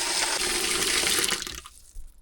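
Water rushes loudly into a toilet cistern through a newly fitted ball valve, a steady hiss that cuts off abruptly near the end, followed by a faint drip.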